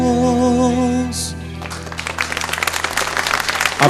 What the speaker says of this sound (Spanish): Aplausos, aplausos para Diego